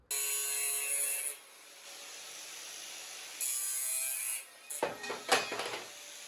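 Metal angles being cut for a drawer frame on a heavy-duty workshop cart build, a steady harsh grinding or sawing whine in two long passes, then a few short scraping bursts and clatters close by, with no talk.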